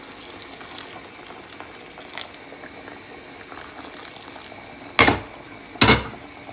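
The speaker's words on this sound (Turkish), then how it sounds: "Biraz kaynasın altını kısacağım." Water coming to a boil in a pot of rice pilaf, a soft steady bubbling simmer close by, then two loud brief bursts of rushing noise near the end.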